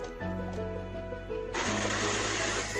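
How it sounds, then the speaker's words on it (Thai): A kitchen blender blends half a kilogram of fingerroot with a litre of water. A low motor hum gives way partway through to a loud, harsh, sustained whirring grind. "เสร็จแล้วนำกระชายใส่เครื่องปั่นได้เลยค่ะ"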